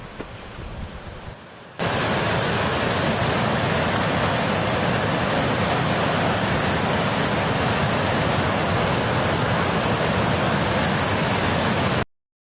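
Heavy rain-swollen floodwater rushing near Haridwar and Rishikesh in Uttarakhand, a loud, steady, unbroken roar of torrential flow that surges in abruptly after a quieter opening and holds until it cuts off near the end, with no voices.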